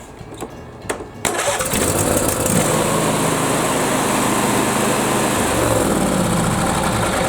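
A Briggs & Stratton twin-cylinder engine, run with its kill wires disconnected, starts after a short crank and then runs at a steady, loud, buzzing speed for several seconds, close to the recorder with no voices.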